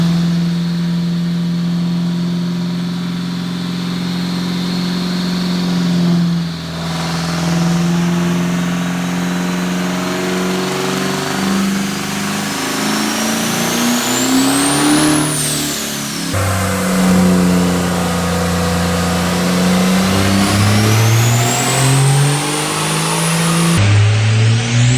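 A car runs a pull on a chassis dyno with an eddy-current brake, its engine climbing through the revs in a loud sustained rising drone, easing off, then revving up again.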